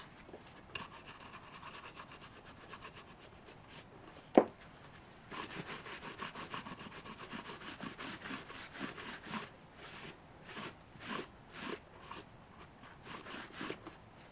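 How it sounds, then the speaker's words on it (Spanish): A paintbrush being wiped to squeeze out excess paint for cleaning in a restoration workshop, heard as steady soft rubbing and scraping strokes with a brief sharp knock partway through, close and fairly quiet with no talking. "Limpio bien la brocha de los fondos para poder reutilizarla, sacando bien el exceso."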